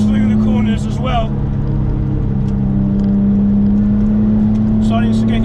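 A Porsche 911 996 Turbo X50 with a 575 bhp engine accelerates through canyon corners, its steady droning engine note loud and close inside the car, with brief sounds over it.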